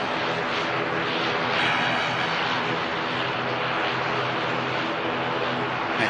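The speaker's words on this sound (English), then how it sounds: "Next aircraft to arrive, Neo from British Airways." British Airways Airbus A320neo arriving at Manchester Airport, a steady broad engine roar holding loud and continuous throughout, with a slight swell in the middle as the jet passes.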